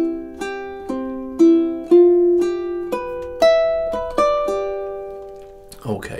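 Ukulele playing two measures of Ave Maria, a slow sequence of plucked notes and chords, each ringing out and decaying, with a quick strum or string noise at the very end.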